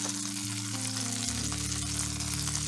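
Garlic sizzles in melted butter in a pan over medium heat, a steady close frying crackle with a low hum underneath and no talking.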